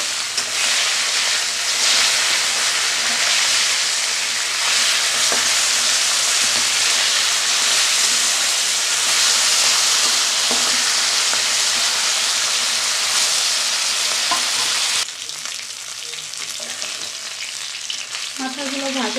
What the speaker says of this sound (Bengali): মাথাগুলো ভাজা হয়ে গেছে